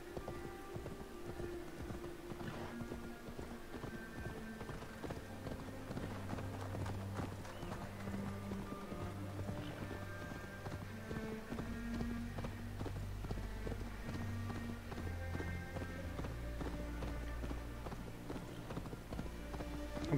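Horse hooves clip-clopping along a road in Assassin's Creed Valhalla, a steady rhythmic trot of repeated hoof strikes under a low musical score, continuous and moderately close.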